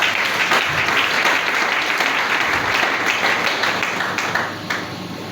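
A church congregation applauding to acclaim God: loud, dense clapping from many hands that continues steadily and tapers off slightly at the end.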